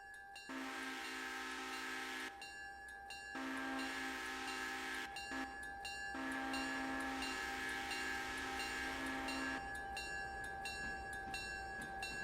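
An SW1 switcher locomotive moves in the railroad game Railroader, with steady rumbling rail noise, a held tonal horn or whistle line, and short breaks in the sound throughout.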